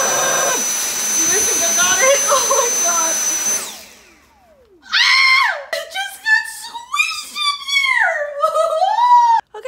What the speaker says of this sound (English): Only way to defeat this spider is with an extra long vacuum.